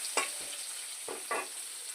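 Potatoes fry in a pan with salt and turmeric, giving a steady close sizzle broken by a few quick scraping stirs of a spoon against the pan.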